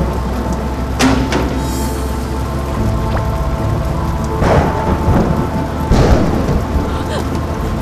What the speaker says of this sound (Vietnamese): Trời ơi, sao như siêu bão vậy?